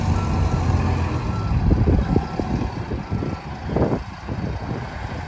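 A Terex TLB840 backhoe loader sounds its reverse alarm, a faint repeating beep heard over the rumble of its diesel engine nearby.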